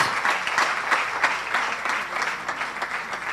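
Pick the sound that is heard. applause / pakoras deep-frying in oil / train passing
applause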